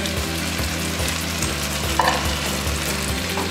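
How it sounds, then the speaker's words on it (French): Eggplant, onion and bell pepper sauté in a pan with a continuous, even sizzle and crackle, occasional faint scrapes and a soft low rhythmic hum underneath, no voices. "Depuis 5-10 minutes qu'on fait revenir les aubergines, il faut qu'elles soient bien dorées"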